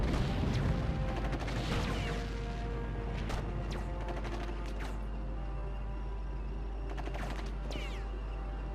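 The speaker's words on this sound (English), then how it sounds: "There be someone evil shooting at us." Scattered gunfire in Sudden Strike 2, a World War II strategy game, made of sharp cracks spread across the clip, over a steady low hum with some clattering at the start.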